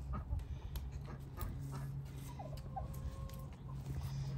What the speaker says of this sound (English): These are royal palm turkeys.